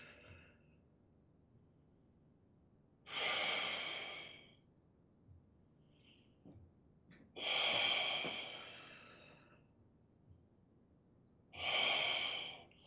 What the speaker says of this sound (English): You breathe in through your nose and out through your lips.